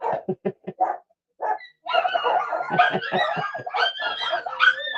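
Several dogs bark in a quick run of sharp yaps, pause, then break into an overlapping chorus of barks and drawn-out howls, loud and close with no talking.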